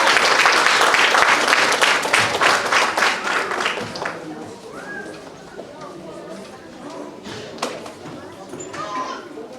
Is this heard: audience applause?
yes